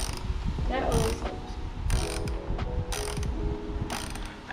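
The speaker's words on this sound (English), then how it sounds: "It would also help if the wrench was going the right way." A ratchet wrench clicks in four quick bursts on a Mustang battery terminal, close and fairly quiet, with small metallic handling sounds in between.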